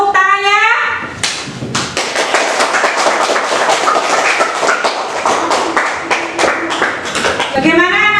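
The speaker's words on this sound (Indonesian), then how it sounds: "Tepuk tangannya." Schoolchildren clapping together in an elementary classroom, a burst of fast, uneven, fairly loud applause with separate sharp claps standing out, framed by a voice speaking before and after.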